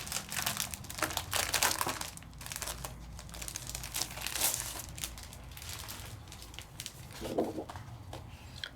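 Sheets of patterned craft paper crinkle and rustle as they are handled up close, in irregular bursts of crisp crackling with a few louder rustles, no talking.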